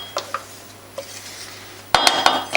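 Mascarpone being scraped out of its tub into a bowl for a parsnip cake: a few sparse, light clinks of a utensil against the container, then a closer, louder flurry of sharp knocks and scrapes near the end.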